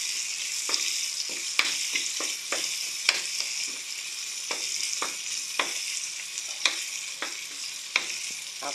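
Garlic and onion sautéing for chicken pochero, a continuous bright sizzle broken by frequent sharp spatula taps and scrapes against the pan, close and steady, with no talking.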